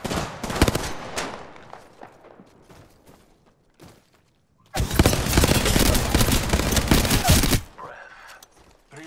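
Gunfire in the shooter game Apex Legends: loud close bursts of rapid automatic fire, a scattered run of single shots, then a sustained roaring volley lasting about three seconds before trailing off.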